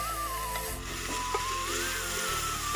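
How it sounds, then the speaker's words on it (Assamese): Peas stirred in a hot pan for vegetable pulao: a close, steady sizzle with soft spatula scrapes and a couple of brief clinks, no voices. "আৰু এনেদৰে লৰাই লৈছোঁ ভালদৰে।"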